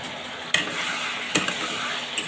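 Onions and chillies frying in oil give a steady close sizzle, broken by a few sharp scraping stirs of a spoon against the pan.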